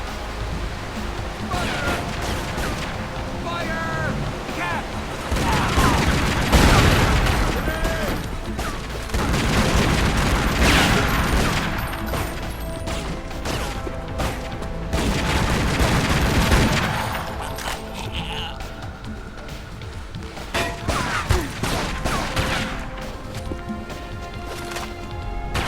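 Sustained gunfire and booming impacts from the video game Tomb Raider: Legend form a loud, continuous barrage of shots and crashes throughout, with little letup.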